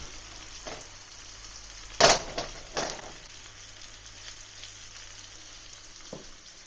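Oil sizzling and crackling under frying whiting fish, with a loud spattering burst near the start, then steady quiet hissing and an occasional clink.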